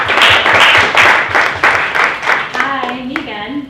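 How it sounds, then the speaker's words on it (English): Applause at a real-estate sales meeting broker panel, a small group clapping loudly and close with a clear rhythmic beat, then tapering as a voice begins speaking. "Give her a round of applause."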